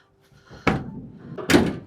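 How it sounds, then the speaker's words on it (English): Side loading door of a Nissan Interstar F35 van opens with two heavy metallic clunks about a second apart, close and fairly loud, with no voices. "Once we've opened up the side loading door,"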